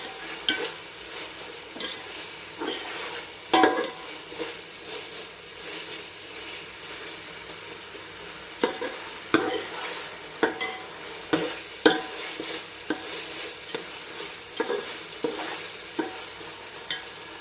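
Biryani masala paste for chicken biryani fries in oil in a pan while a spoon scrapes and stirs in irregular strokes over a constant sizzle, close and fairly loud, with no talking.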